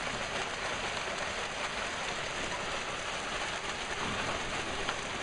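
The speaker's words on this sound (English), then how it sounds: "as hail is beginning to fall from a fast-moving thunderstorm" Hail pours down steadily from a fast-moving thunderstorm over Newtown, a dense, even hiss of pellets striking outside the back office, unbroken and fairly loud with no voices.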